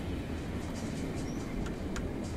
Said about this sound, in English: I hear it. I think a train?